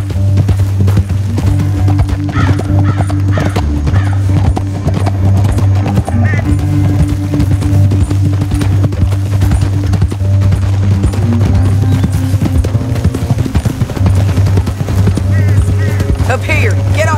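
Horses gallop in the video game Red Dead Redemption 2, with steady rhythmic hoofbeats running loud and continuous throughout, alongside a low rumbling game soundtrack and occasional voices.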